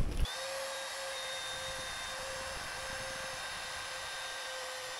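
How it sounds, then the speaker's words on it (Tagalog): A wood router with a round-over bit trims the edge of a wooden sofa part, a loud, steady high-pitched whine running continuously close by after a brief start. "Tawag po rito is router."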